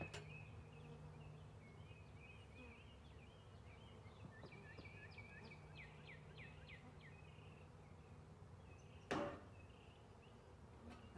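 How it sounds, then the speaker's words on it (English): Honeybees buzz steadily around a hive that is being robbed by other bees, a faint droning hum with individual bees passing close by, plus one brief knock near the end. "I see other bees that have different coloration buzzing around and landing on the frames"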